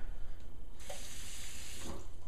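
Tap water running into a Shakeology shaker cup, a short soft splash of flow lasting about a second and a half under steady room hiss, with a second brief trickle near the end.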